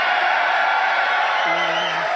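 A large crowd at a Trump rally roars and cheers steadily, a dense wall of voices with a brief whoop rising above it.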